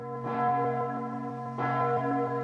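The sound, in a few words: Savoyarde, largest church bell in France, ringing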